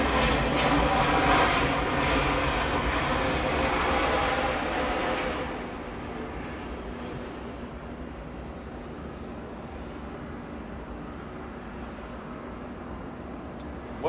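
An Airbus A330neo airliner's engines roar at Atlanta airport, a loud, broad rumble for about five seconds that then drops to a softer, steady distant drone.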